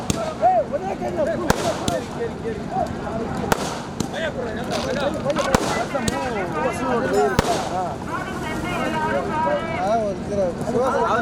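Fireworks at the Madurai Kali Amman temple chariot festival: several sharp, loud cracks and bangs burst out at irregular intervals over a constant din of crowd noise and voices.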